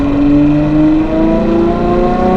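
A Novitec-tuned Ferrari 812 N-Largo S V12 revs hard through its aftermarket exhaust, a loud, close, rising howl that climbs steadily in pitch and drowns out everything else.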